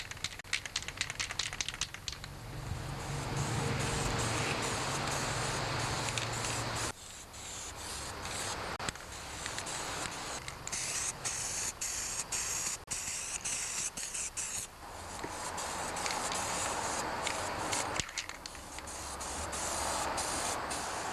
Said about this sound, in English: I'm going to spray with some yellow paint.